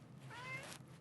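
A cat meows once in the video game Wuthering Waves, a single drawn-out call lasting under a second, clear and close over a low steady background hum.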